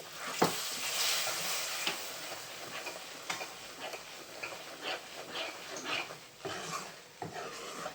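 A spoon stirs steadily through a thick mixture of flour roasting with milk in a pan, with soft sizzling and irregular scraping knocks, close and without speech.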